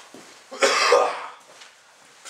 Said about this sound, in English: I will cough into the video today.